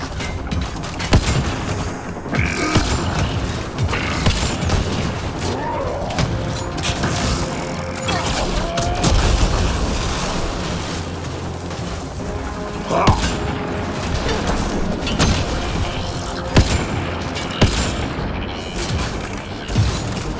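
Sensors being destroyed in Mass Effect Andromeda: repeated gunshots, booms and mechanical clatter over a steady battle din, loud and continuous, with occasional speech mixed in.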